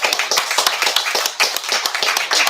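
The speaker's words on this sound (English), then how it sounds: "We didn't clap for them." Audience applause at a live podcast event, dense clapping from a crowd sustained throughout with no talk over it.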